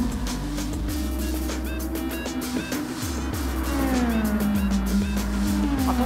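A race car drives the Dragon Trail circuit in the video game Gran Turismo Sport, its engine droning loud and steady. Pitch shifts and short dips mark gear changes as the car brakes and accelerates through the corners.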